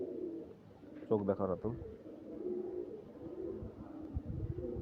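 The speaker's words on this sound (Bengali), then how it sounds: "খুব ভালো কবুতরই দেখানো হচ্ছে গিরিবাজ রাজশাহী" Giribaz pigeons of the Rajshahi breed coo in a short burst of low, throaty calls near the middle, with someone talking and background noise around them.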